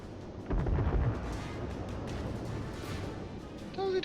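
Warship guns boom in the naval combat game World of Warships, one heavy close blast followed by rumbling, with quieter distant fire and a brief tonal game sound at the end.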